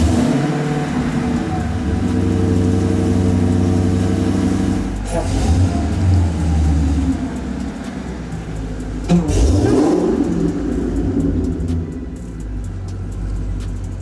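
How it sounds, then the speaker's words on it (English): A tuned Dodge Hellcat Charger with a manual transmission and over 800 horsepower rumbles loudly and steadily. Its engine note shifts abruptly twice, with a brief rev surge in the middle before settling into a lower drone. "take it out and go for a drive and see what's it like to drive a manual transmission Hellcat Charger that's been tuned"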